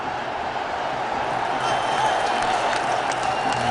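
A cricket crowd at a Bangladesh match roars and cheers after a wicket falls, a dense, continuous stadium din of voices and applause holding steady and loud throughout.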